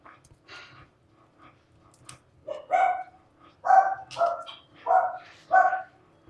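A pet dog named Rompom barks in a home kitchen. Several close, fairly loud barks come in a quick series after a few soft yips, with quiet background between them.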